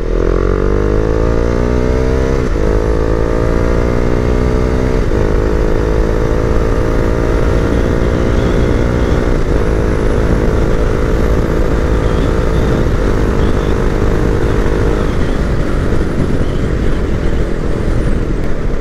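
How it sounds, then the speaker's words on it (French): A Husqvarna Vitpilen 701 with a single-cylinder engine, six-speed gearbox and quickshifter is heard from the rider's position, a loud, steady engine drone whose pitch climbs through the gears in several rising sweeps, with no talk. "permis A2, 47 chevaux et demi actuellement, boîte 6 rapports, moteur monocylindre"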